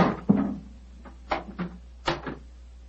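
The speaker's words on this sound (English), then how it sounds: "Knock again, old fellow, will you?" Several dull wooden knocks on a door in an old-time radio drama, sounding in loose groups of two or three with quiet gaps between them, close and moderately loud.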